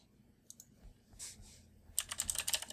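A command typed at the MySQL command line on a computer keyboard: a few isolated key clicks, then a quick, close burst of rapid keystrokes near the end over a faint background hum.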